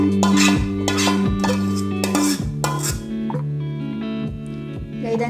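A metal spoon stirs a thick bisibelebath mixture of fried ingredients and cooked rice and lentils in a pot, with repeated close clinks and scrapes against the metal rim in an uneven rhythm over steady background music, without speech.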